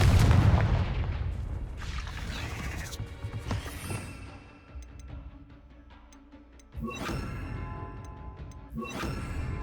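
Confringo fire spell in the Hogwarts Legacy game, a loud burst of booming explosive blasts up front that fade into a quieter stretch before further sharp crackling impacts return.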